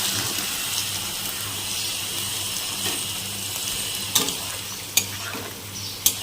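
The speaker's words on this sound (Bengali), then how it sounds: "সরষাটা দিয়ে ভালো মতো কষিয়ে নেব।" Mustard paste sizzles and fries in a pan while being stirred, a steady close hiss with occasional scraping and a few sharp clicks of a utensil against the pan.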